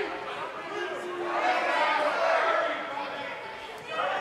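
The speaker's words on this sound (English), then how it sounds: "This crowd cannot wait to get to this triple threat match." A wrestling arena crowd ahead of a triple threat match fills the space with a broad, steady roar of chatter and cheering that swells in the middle and then eases off.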